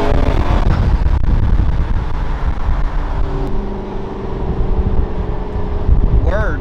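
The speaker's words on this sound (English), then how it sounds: "when those turbos come on and you hear the air rushing through" A McLaren supercar with a turbo engine running on the road, heard as a loud, continuous roar of engine and rushing air with wind buffeting, steady throughout with a brief rising whine near the end.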